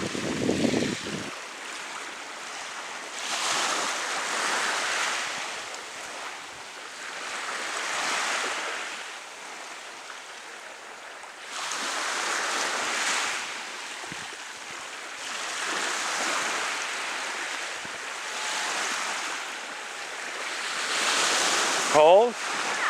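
Atlantic Ocean waves roll in at Melmerby Beach, broad washes of surf rising and falling in slow repeated swells, with wind noise buffeting the microphone.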